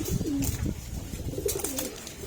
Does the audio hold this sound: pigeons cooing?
yes